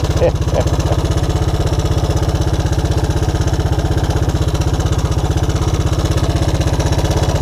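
A Honda Big Red ATC200ES three-wheeler engine idles steadily up close, its fast, even putter continuing without a break, with a voice speaking briefly near the start.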